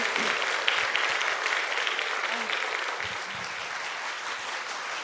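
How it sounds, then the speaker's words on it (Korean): A standing congregation in a church claps loudly and continuously, a dense, close wash of applause that eases off slightly toward the end, with a few voices mixed in. "큰 박수 부탁드립니다."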